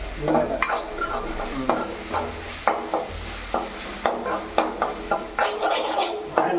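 Dry coconut frying in a pan while being stirred, with repeated sharp scrapes and clacks of the spoon against the pan about every half second over a loud, close sizzle, with no talking.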